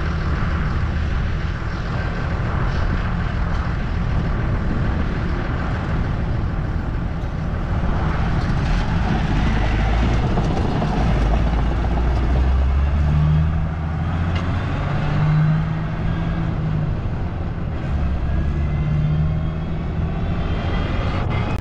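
A 610 tractor on a farm hauling bales home drives past with a steady, droning engine roar and rumble that holds for about twenty seconds without a sharp peak.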